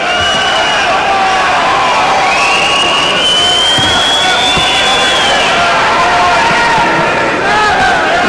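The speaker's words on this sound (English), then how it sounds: "The crowd lending support now to Stephane Ouellet." A boxing crowd roars in support of Stephane Ouellet during his fight with Tyler Hughes, a loud, sustained swell of cheering, whoops and shouting that fills the whole stretch without letting up.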